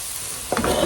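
Fresh ripe tomatoes dropping into hot butter in a pan, a steady sizzle that swells suddenly halfway through into a louder frying hiss.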